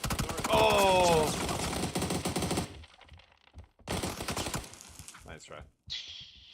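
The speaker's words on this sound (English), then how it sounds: "I did some good shotgun work there, though." Shotgun gunfire in a video game crashes out in loud, dense bursts, with sharp shots and excited voices in the first seconds, then fainter scattered shots and a short closing blast.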